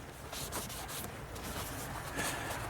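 Aluminum brake caliper assembly from a Mercedes-Benz S550 being scrubbed clean, heard as repeated close rubbing and brushing strokes in an uneven rhythm.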